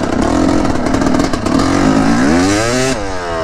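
Dirt bikes ride past close by, their engines a loud, buzzing roar that rises and sweeps in pitch as they accelerate past, then drops away at the end, with no voices.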